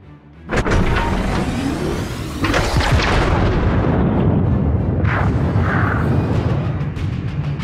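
Heavy naval gunfire from a warship in World of Warships: a sudden loud boom opens, then a sustained rumbling roar of further blasts and rolling explosions continues, dense and close, with no talk over it.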